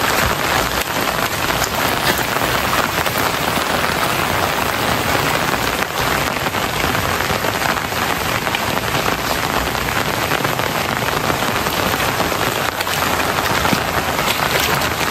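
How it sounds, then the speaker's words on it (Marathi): Steady heavy rain beats down outdoors beside rice paddy fields in the Konkan during planting season. The dense, even hiss of drops striking surfaces is loud and unbroken for fifteen seconds, with no voices. "पाऊस पडतोय"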